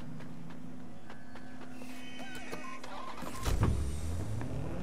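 A car called in during the video game Watch Dogs: Legion arrives. First comes a quiet electronic hum with faint tones, then a near engine rev and a whoosh as the vehicle rolls in, with no talk.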